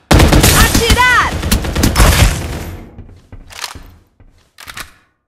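Loud rapid gunfire from the video game Farlight 84, a dense close volley for about two seconds, then a few short separate bursts tailing off into quiet.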